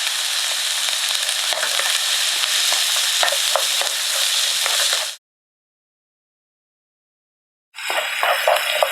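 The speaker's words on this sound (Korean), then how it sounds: "먼저 볶아주세요." Onion and garlic stir-fry in a hot pan with a dense, loud sizzle and scraping stirs, cut off by a silent gap of nearly three seconds before the sizzling resumes.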